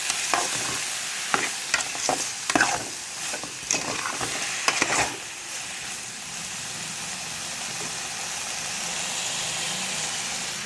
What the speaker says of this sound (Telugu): అన్నీ కలిసేలా కలుపుకున్నాం.